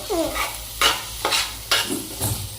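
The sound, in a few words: stir-frying tempered mixed vegetables in pan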